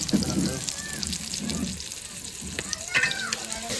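Fish frying in hot oil in a home kitchen, a soft, steady sizzle with occasional louder bursts and faint clinks, fairly close, with some background voices.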